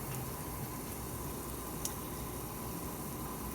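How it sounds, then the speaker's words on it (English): Water at a full rolling boil in a pot on a stove turned up to high: steady, dense bubbling hiss that stays even and constant throughout, with no talking. "that right there, guys, that is a full boil"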